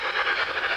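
A Gützold TT-scale class 65 model steam locomotive runs unevenly along track, giving a steady whirring, rattling hum with a slightly bumpy, pulsing texture, close and moderately loud, with no talking.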